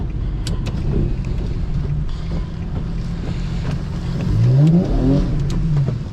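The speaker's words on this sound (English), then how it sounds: "Yup, see? Car coming." A car on the road approaches and passes a drifting rear-wheel-drive Infiniti G37 in wet weather, its engine tone rising and sweeping past loudly over steady wind and road rumble.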